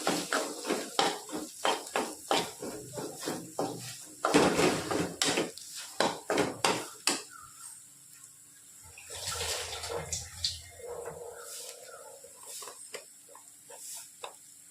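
Potatoes mixed in a bowl with a spoon, a quick run of rhythmic clinking, scraping strokes against the bowl, then a softer mushy stretch and a few more taps.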